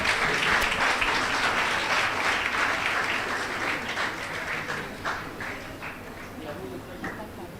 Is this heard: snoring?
no